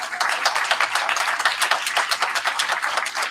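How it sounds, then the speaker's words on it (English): An audience at a congressional district candidate forum claps, a fairly close, lively patter of distinct hand claps with uneven rhythm and no voices over it. "give yourselves a round of applause for being here today"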